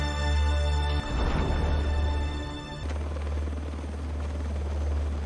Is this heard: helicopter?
yes